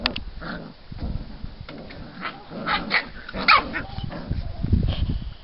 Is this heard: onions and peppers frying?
no